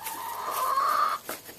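A chicken at a coop gives a single drawn-out clucking cry, close and clear, followed by a short softer cluck.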